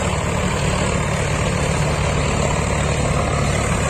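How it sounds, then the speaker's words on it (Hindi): A Swaraj 855 tractor working an 8-foot rotavator runs with a loud, steady engine drone that holds constant throughout, with no talk over it. "ये ट्रैक्टर इधर चल रहा है और वो उधर चल रहा है"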